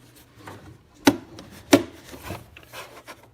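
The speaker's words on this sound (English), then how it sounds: "Now we just have to pop this piece in." A plastic housing piece on a Husqvarna 150 BT leaf blower is pressed into place, giving two sharp snapping clicks close to the mic with faint rubbing and handling sounds around them.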